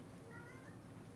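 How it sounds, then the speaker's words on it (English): A single cat meow rises faintly above a loud, noisy background hum, brief and distant-sounding, with no talking over it. "Meow. There's one of them."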